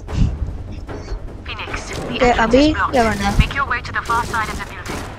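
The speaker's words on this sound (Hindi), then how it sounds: "कितनी सारी गोली चल रही है" Rapid bursts of gunfire in the mobile game Modern Combat 5 crackle under continuous excited talking, with sharp repeated shots scattered throughout.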